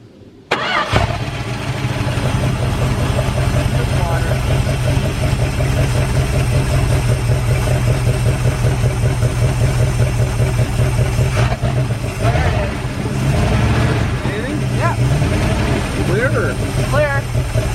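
Dodge D150 pickup truck engine starts and runs at a steady idle during a fuel pump test, a loud continuous rumble close by with brief voices over it near the end.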